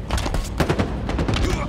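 Rapid automatic gunfire in Halo Infinite ranked tactical slayer, a close, loud stream of shots firing steadily for the whole short burst.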